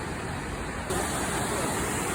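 Düden Waterfall in Turkey sends up a steady, broadband rush of falling water. The roar holds at an even level throughout and gets slightly louder and fuller partway through, with no voices over it.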